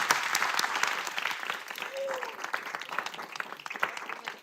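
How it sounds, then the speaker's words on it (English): An audience applauds at an environmental bill package announcement, steady many-handed clapping from a room crowd, with a voice faintly mixed in. "So please join me in giving everyone up here a round of applause"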